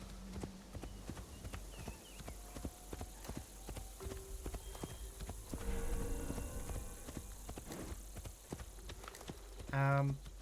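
Horse hooves clip-clop at a steady walking rhythm in the Assassin's Creed Shadows video game, close and distinct, with a short snort or whinny near the end and game music faintly underneath.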